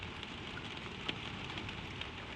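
Gentle, steady rain patters softly and evenly, a faint continuous hiss with a few scattered drops standing out.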